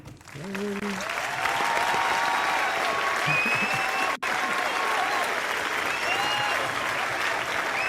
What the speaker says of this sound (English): Let's give one more round of applause to the Swashbucklers.